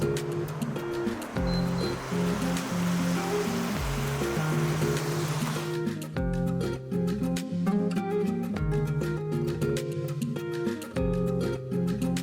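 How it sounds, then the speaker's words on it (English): Water poured into a hot pan of toasted spices and aromatics for a red spinach paneer dish, giving a steady loud sizzle and hiss with a broad wash of bubbling noise that settles into sharper crackling spits. "Little bit of water just to cook out the spices."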